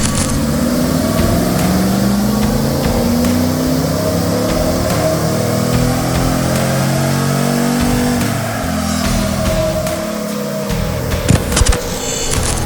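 Supercharged RAM 1500 e-Torque pickup running on a chassis dyno, its engine droning loud and steady with rising and falling pitch as it revs under load, close and continuous throughout.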